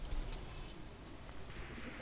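Pigeons at a rooftop pigeon-flying competition coo softly amid steady outdoor background noise, with no clear voices over the low murmuring calls.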